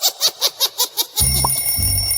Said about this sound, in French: Le réveil sonne, il est donc temps de se lever.